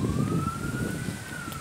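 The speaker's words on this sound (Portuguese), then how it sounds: "A ambulância passando lá do outro lado" An ambulance siren wails steadily across town in the distance, beyond a road beside a church at night, a single rising and falling tone over low traffic rumble, with no one talking.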